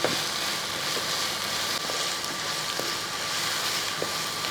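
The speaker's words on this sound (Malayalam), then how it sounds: "ഒന്ന് ഇളക്കി കൊടുത്ത് നമുക്ക് ഈ വെണ്ടയ്ക്ക ഒന്ന് വഴറ്റിയെടുക്കണം" Chopped okra being stirred and sautéed in a pan, heard as a steady, dense sizzle of frying that holds evenly throughout, with a few faint scraping knocks of the spoon against the pan.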